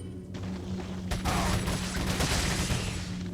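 Machine gun fire in Resident Evil 4, a short, dense rattle of automatic shots building suddenly after a brief quieter start and continuing to the end.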